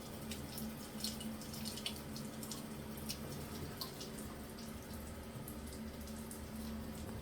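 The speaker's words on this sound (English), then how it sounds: "Hot water is still running a little brown." Hot water runs steadily from an aging, corroded faucet with brownish water and low pressure, a continuous soft hiss and splash close by with no voices.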